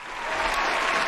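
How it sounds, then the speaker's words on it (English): Canned applause sound effect on a livestream, a brief burst of dense clapping that swells quickly and holds steady. "It's not a real round of applause"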